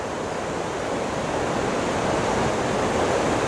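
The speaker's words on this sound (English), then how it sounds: "the sound of water" Water rushes continuously with a steady broadband roar, close and loud, with no voices or breaks.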